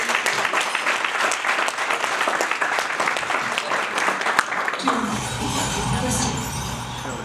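Audience applause at a realtors expo partners breakfast at a resort in Nyahururu, Laikipia, Kenya: dense, sustained clapping for several seconds that thins out toward the end, with some background talk.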